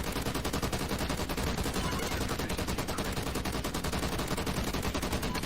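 Sustained light machine gun fire in Call of Duty: Ghosts Safeguard survival mode on a snowy map, a dense continuous rattle of rapid shots with steady loudness, no talk.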